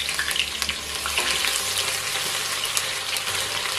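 Onion frying in hot palm oil in a pot for Nigerian egusi soup, a close steady sizzle with scraping stirring sounds and no talking.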